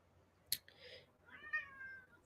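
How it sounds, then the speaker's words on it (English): An indoor cat gives a short chirp followed by a longer drawn-out meow, close and fairly quiet, in a hushed room. "He's doing those long meows."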